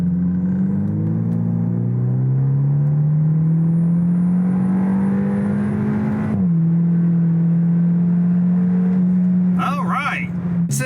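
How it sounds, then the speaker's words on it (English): Hyundai Elantra N Line small turbo car accelerating from 40 to 80 with the automatic gearbox shifting on its own, a steady rising engine drone with one clear shift, loud and close throughout. "All right, first run, 40 to 80, automatically shifting on its own."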